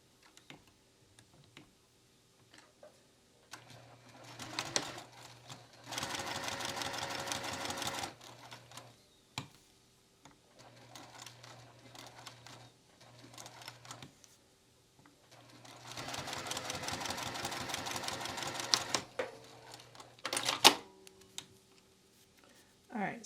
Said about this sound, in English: I'm just going to top stitch down each side